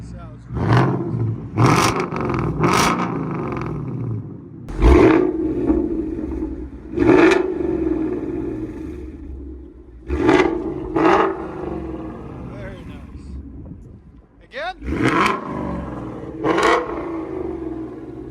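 A 2022 Ford Mustang GT with a 5.0L V8 and MBRP cat-back exhaust revving in repeated sharp bursts, each rev a loud roar that falls back to a rumbling idle between them.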